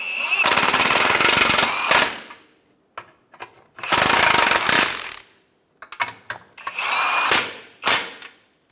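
A power tool tightens nuts onto the front transmission mount studs of a 2014–2019 Toyota Highlander, giving three loud, sustained whirring-rattling bursts separated by short trigger blips and brief silences.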